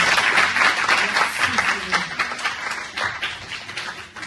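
A congregation applauds in an evangelical church during a Sunday service, with dense, loud, continuous clapping that fills the room the whole time and voices mixed into the crowd noise.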